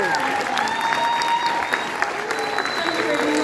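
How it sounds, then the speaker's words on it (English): Audience applause for second graders at a school award night, a steady wash of clapping from a large crowd that holds for the whole stretch, with faint voices and whistles mixed in. "please give one more round of applause for our 2nd grade"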